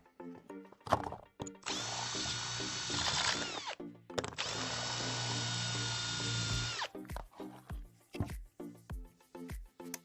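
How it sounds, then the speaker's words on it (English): A power drill fitted with a step drill whirs loudly in two sustained bursts, each several seconds long, cutting a plastic heater plenum, with clattering and handling knocks before and after, close by. "or you can use a step drill,"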